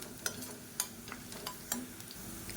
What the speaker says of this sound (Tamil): நல்லா ப்ரௌன் கலரில் வர அளவுக்கு வதக்கிக்கலாம்